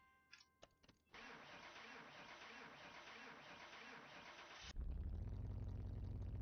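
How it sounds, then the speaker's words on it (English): A car engine in Car Mechanic Simulator 2021 cranks with a few uneven clicks, turns over for several seconds, then catches with a louder deeper rumble into idle, on a car suspected of starting poorly. "That car did not sound like it wanted to start properly"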